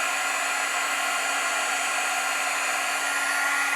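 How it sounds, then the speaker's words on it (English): A Wagner heat gun heat-setting white embossing powder runs as a constant loud blowing whir with a steady hum, unbroken from start to finish. "I'm going to grab the Wagner heat gun, and we're going to heat set."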